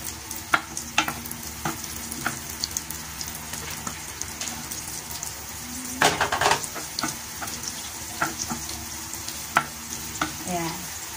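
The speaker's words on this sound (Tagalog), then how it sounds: "Paprito lang natin ng konti bago ko ilagay yung tuna." Sliced carrots and onion fry in a pan for a cauliflower and broccoli tuna stir-fry, a soft steady sizzle broken by scattered clatters of stirring, fairly quiet and with no talk.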